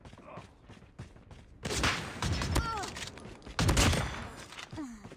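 Shotgun blasts and other gunfire in the mobile shooter Call of Duty Mobile, dense overlapping bursts filling most of the stretch, with a player's voice heard over the action.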